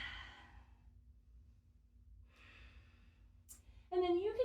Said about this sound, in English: Breathing in and out.